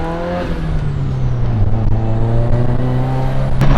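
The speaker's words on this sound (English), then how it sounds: "I will never get over how this car sounds." A Nissan S-chassis car with an SR engine revs hard, a loud raspy exhaust note climbing and holding in a sustained roar, close by and steady for several seconds.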